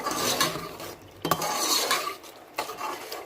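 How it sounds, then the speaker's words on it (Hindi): Spice masala being stir-fried in hot oil in a pan for a chicken kofta dish: a close, continuous scraping stir with a soft sizzle, broken by a few brief knocks of the spoon against the pan. "अब हम इस ऑयल में हम मसाले को भूनेंगे।"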